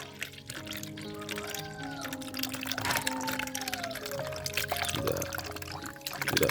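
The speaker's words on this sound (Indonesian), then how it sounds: "Jadi ini susu yang 1000 ml, ini hampir masih ada setengah. Ini akan saya tuangkan ya." Half a litre of stale, spoiled milk pours from a 1000 ml carton into a container, making a steady liquid glug and trickle close by with no talking over it.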